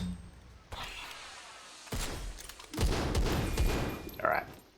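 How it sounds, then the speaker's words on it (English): Grenade launcher fire in the top-down shooter SYNTHETIK 2, several sharp booming shots in an uneven sequence, each with a rumbling tail, loud and close, ending with a brief mechanical whir. "that's where we should be using the grenade launcher"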